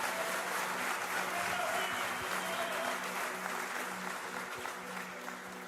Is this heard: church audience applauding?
yes